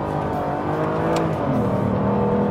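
A 2011 Aston Martin Virage engine roars loud and steady as the car is driven hard, with a dense, continuous growl and no voices over it.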